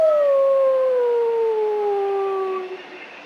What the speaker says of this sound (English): She howls in search for it.